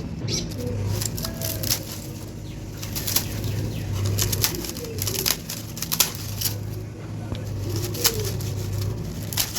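Fantail pigeons in a coop give low, repeated coos over a dense background of wing flaps and shuffling, with faint voices in the mix.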